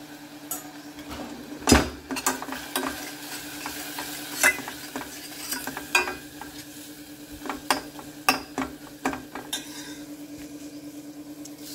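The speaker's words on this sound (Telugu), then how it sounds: "ఇది కొంచెం నూనెలో ఫ్రై అవుతుంది" Spices and dry lentils fry in hot oil in a pan, with a soft continuous sizzle broken by repeated clinks and scrapes of a metal spoon stirring against the pot.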